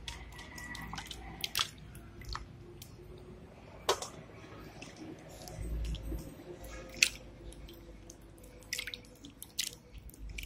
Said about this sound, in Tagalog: Wash the potatoes.